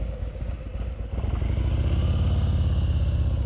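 Motorcycle ridden slowly during advanced slow-speed riding practice in California, a steady low engine rumble with a faint clatter that swells slightly as the throttle opens, close and continuous throughout.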